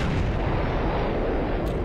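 A missile launches from a lucky launcher in a Minecraft Battleship mod game, a dense, roaring blast of noise that fills the whole moment, loud and continuous with no voices over it.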